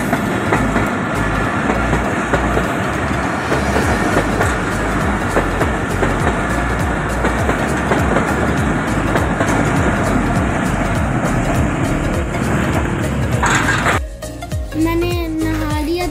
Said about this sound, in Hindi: रेलवे का ट्रैक भी बंद है, तो ट्रेन गुजर रही है।